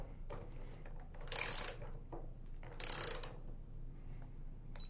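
Atlas Copco STwrench torque wrench tightening a bolt on a test joint to 25.5 newton meters, heard as two bursts of ratcheting, whirring mechanism noise over a low steady hum, with quieter clicks between them.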